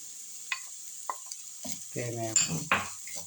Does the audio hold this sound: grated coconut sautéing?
yes